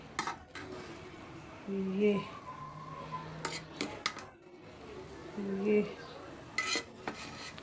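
A spoon scrapes and clinks against a pot while cooked rice is stirred, giving intermittent metallic taps and scraping strokes close by, with faint background hum between bursts.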